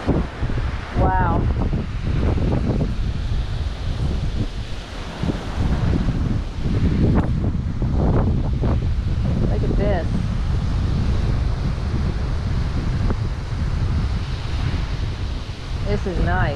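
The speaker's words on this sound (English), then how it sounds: "this is the Atlantic Ocean." Atlantic Ocean surf and wind roar steadily, close and loud, with gusts buffeting the microphone throughout, at a seaside spot in Key West, Florida, with voices talking briefly over it.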